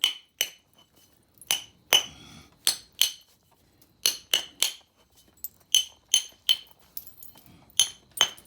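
Stone knapping on a thin base, sharp bright clicking strikes in uneven clusters, about twenty close taps with short pauses between groups.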